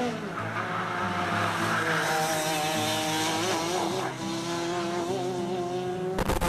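A four-stroke racing kart braking hard into a high-speed corner: loud, close engine drone with falling revs and harmonic whine, tire scrub underneath, ending in a sharp burst of noise.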